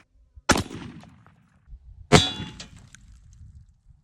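Two loud, sharp shotgun blasts from a Citadel Boss 25 firing number 6 birdshot outdoors, about one and a half seconds apart, each with a fading echo and a metallic ring.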